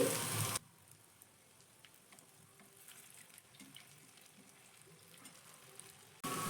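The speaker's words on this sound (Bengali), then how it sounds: "এগুলোকে আমি উল্টে পাল্টে কিন্তু লালচে করে ভেজে নেব" Snacks made from flour and chana dal fry in hot oil with a soft, steady sizzle. The sizzle is faint and continuous, and a brief louder burst of noise opens and closes it.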